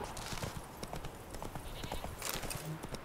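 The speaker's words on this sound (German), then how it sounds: "Reiten mal kurz hier über die Wiese" Horse hooves clip-clop at a steady trot across a meadow in The Witcher 3, with a brief whinny partway through and some faint game sounds underneath.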